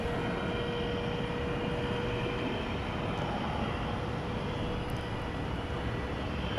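An American Airlines Airbus A319 departs Dallas Fort Worth airport at night, bound for Wichita; its engines make a steady, broad, distant roar that holds evenly throughout with no voices.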